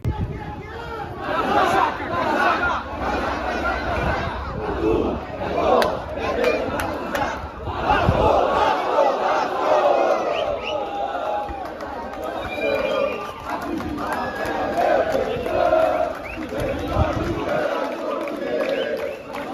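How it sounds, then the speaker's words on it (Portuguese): Vasco football fans in Itajaí, a large crowd cheering and chanting loudly in rhythm, with roars and shouting voices throughout. "a torcida do Vasco recebendo muito bem a equipe"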